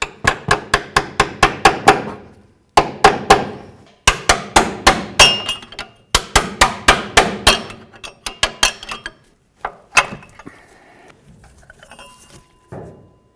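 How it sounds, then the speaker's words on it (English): Hammer blows ring out on a metal punch driving a control arm bolt out of a 1988-02 GMC Sierra 1500 front suspension. Sharp, loud clanging strikes come in rapid bursts separated by brief pauses, then give way to lighter clinks. "We're going to use a punch. We'll push this out the rest of the way"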